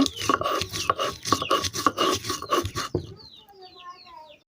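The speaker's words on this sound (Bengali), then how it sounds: "এখন হচ্ছে শিল পাতায় বেটে নিব" Chopped onion, peanuts and salt being ground on a flat grinding stone, rapid rough rasping strokes in a close, uneven rhythm, then stopping while faint bird chirps carry on alone.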